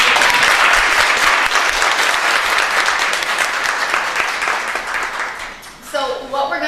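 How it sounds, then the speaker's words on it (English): A panel event audience at a brunch in NYC gives a sustained round of applause, loud and dense throughout before tapering off, with a voice emerging over the fading clapping at the end. "So just give these ladies one more round of applause."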